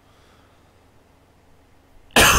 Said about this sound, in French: je suis vraiment désolé pour la toux.